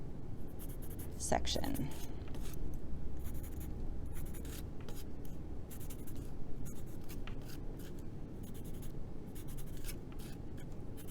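Marker or pencil scratching across paper by hand to mark notches on a holiday craft, short strokes in bursts, close, with a voice talking over it.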